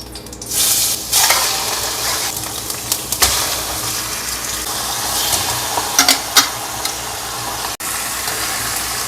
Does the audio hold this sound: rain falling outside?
no